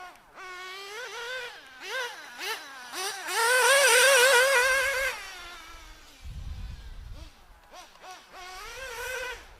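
A custom 420cc dune buggy engine revs hard at full throttle, its whining, wavering pitch climbing and surging through repeated bursts, with a brief low rumble between revs.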